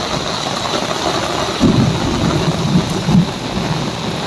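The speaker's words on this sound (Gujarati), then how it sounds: "આ છે સુરતનો વરસાદ મુસળાધાર ભારે" Heavy monsoon rain pours down steadily in Surat, a dense hiss that swells twice with low rumbles of thunder.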